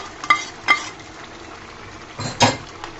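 Eggs placed into snake gourd gravy in a pan make a soft, steady sizzle, with a few clear clinks and scrapes of a utensil against the pan, nearby and without talk.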